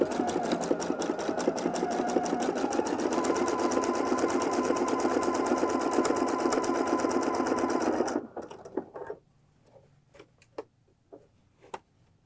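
A sewing machine runs a fast, steady stitch for about eight seconds while sewing fold-over elastic binding around a raw neckline edge, then stops, leaving a few scattered clicks and taps of handling.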